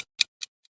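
Capri Sun sonic brand logo: three short bright chimes or ticks spaced evenly, the last much fainter, alone with no voices.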